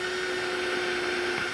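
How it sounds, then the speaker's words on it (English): A power drill whines steadily as it bores through wood, one continuous even tone with no pauses, close and fairly loud. "Give me some room to drill through."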